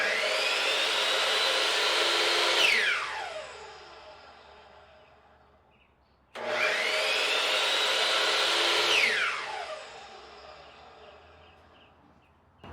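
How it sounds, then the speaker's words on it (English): A Delta Industrial compound miter saw powered by a Jackery solar generator whines up twice, each run starting with a sharp rising motor roar and then spinning down in a long falling hum, loud and close. "Now the Delta Industrial Compound Miter Saw."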